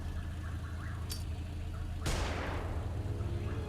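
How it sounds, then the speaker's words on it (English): Flashbang grenade going off in Xenonauts 2, a sudden sharp bang with a sweeping burst that decays over a second, over steady game background noise. "we're probably going to have to throw a flashbang"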